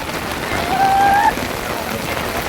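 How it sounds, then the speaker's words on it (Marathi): Rain falls steadily at Savlya Ghat, a foggy pass near Devkund waterfall, a constant close hiss with a short whistling tone partway through. "पाऊस पाऊस, नुसता पाऊस."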